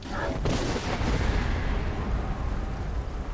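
A dragon attacks and wrecks an execution site in Skyrim, loud and close: an opening crack gives way to a dense, roaring, explosive rumble that holds for several seconds.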